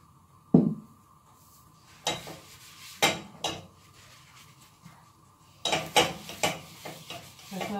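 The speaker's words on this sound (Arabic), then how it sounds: "غادي ندهن المقرة ديالي بشوية الزيت" A crêpe pan being greased with a little oil: soft scraping and dabbing strokes on the hot metal with light clinks, several short bursts spread over the clip, close up, with no talk.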